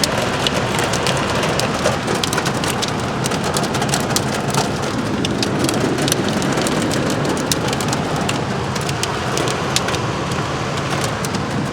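Hail pings amid a heavy rainstorm along a forest trail, a dense, constant downpour with sharp little clicks and taps scattered throughout, loud and close with no voices.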